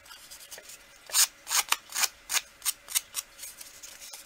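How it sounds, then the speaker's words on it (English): Scissor blades are scraped repeatedly along the edges of paper to distress them, making about a dozen sharp, rhythmic rasping strokes heard up close, with no talking. "I've always just used my scissors"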